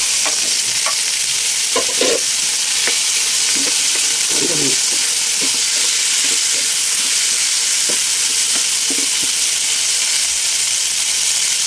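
Tomato and boiled eggplant sautéing with tuna in a pan, a steady close, loud sizzle with faint stirring scrapes and clinks throughout, with no talking.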